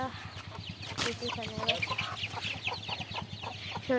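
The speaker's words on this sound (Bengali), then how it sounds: "এই যে আমাদের মুরগিগুলো চলে গেল দেখেন ওই যে আমাদের বাচ্চাগুলো আর এটি তো সাদা মুরগির বাচ্চা" Chickens and young chicks clucking and peeping around a yard, with repeated short calls over a low steady hum and faint voices nearby.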